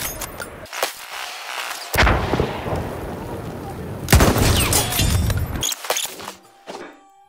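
A German machine gun fires in the Battlefield 1 video game, two long, loud bursts of rapid gunfire with booming echoes, separated by brief pauses, with scattered shots and thuds after.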